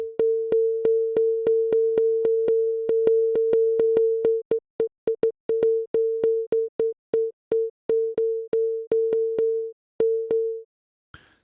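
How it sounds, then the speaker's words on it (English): A synthesized sine-wave tone, still clean and undistorted, sounds at one steady pitch. It beats in even, regular pulses, then breaks into quicker choppy bursts with short gaps before it stops. "currently it's just like a sine wave and not at all annoying"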